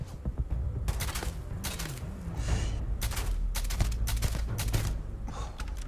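A weapon firing in the video game Starfield, with bursts of sharp shots and booms repeating in clusters, loud and close, with a brief voice-like tone near the start.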